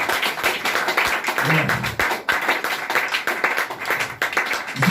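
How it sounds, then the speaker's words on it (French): A church congregation claps and applauds during a Sunday service, a dense, steady patter of many hands close by and fairly loud. "Est-ce qu'on peut acclamer encore ce français?"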